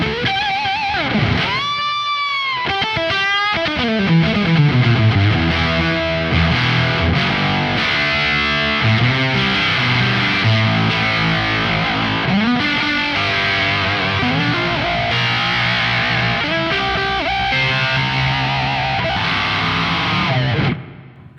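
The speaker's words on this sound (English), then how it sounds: "if anybody knows an Octavia, it sounds like this" Electric guitar played through an Octavia octave fuzz pedal, giving a thick, distorted, buzzy tone with an upper-octave edge, sustained riffs and bends ringing loudly and continuously for about twenty seconds before cutting off.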